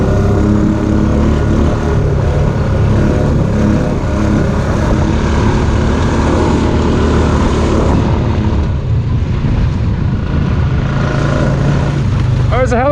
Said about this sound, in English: Oh, there's a helicopter.